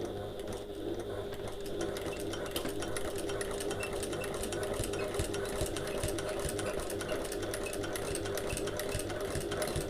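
A sewing machine stitches a bag at a steady, fast rhythmic whir with a continuous mechanical chatter, close and constant for the whole stretch with no talk.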